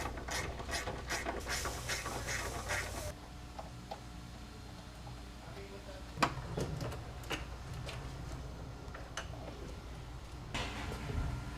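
Ratchet wrench tightening bolts while fitting axles and a hood on an Integra race car with an L15B7 engine swap, giving bursts of rapid clicking with pauses and a sharp knock midway, close by in a garage.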